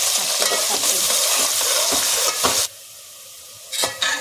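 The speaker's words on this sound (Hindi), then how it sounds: "अब प्याज डाल, प्याज जब हो जाएगा तब मसाला" Onions fry with cloves and cardamom in oil for chicken korma, a loud sizzle broken by repeated stirring scrapes, then a sudden drop to quiet before the frying noise returns briefly.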